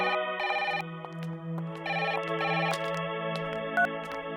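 A telephone rings close by in a tonal electronic ringtone pattern, with repeated bursts of ringing over a steady hum and no talking.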